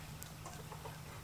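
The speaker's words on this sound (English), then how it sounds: "our chickens walking around in the background" Backyard chickens walking around, giving a few soft, faint clucks at a distance over a quiet low hum.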